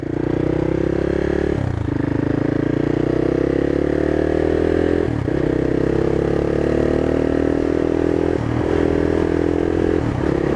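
A CCM Flat Tracker motorcycle with a 6-speed gearbox being ridden: a loud, steady engine drone close to the mic, briefly broken by three gear changes spread across the run, with no voices.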